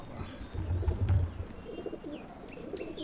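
Pigeons in a loft give low, faint cooing calls in a short burst, heard close with a quiet background and no talk.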